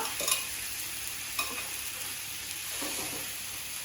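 Steady, quiet sizzling of food frying in a pan, a soft continuous crackle with faint clinks.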